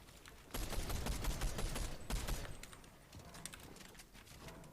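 Rapid video game gunfire crackles in dense bursts of shots, moderately loud and continuous through most of the moment, with no talk over it.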